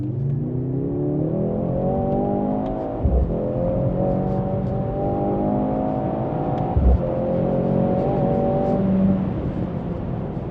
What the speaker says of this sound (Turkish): bu otomobilin olayı da tamamen motor sesi